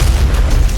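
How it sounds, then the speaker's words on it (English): A rocket launcher fires in Doom Eternal, producing a single loud, deep booming blast that fills the whole short moment. "The rocket launcher, for example, is now much more powerful and sports a steely, infernal exterior at the cost of less ammunition and a slower fire rate."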